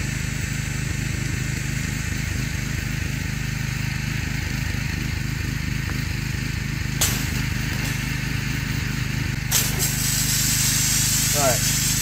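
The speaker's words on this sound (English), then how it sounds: "We're gonna clean this last little section here with the soap nozzle" A pressure washer fitted with a soap nozzle sprays a pool cartridge filter, its motor droning steadily with a hissing spray throughout, while a voice talks over it.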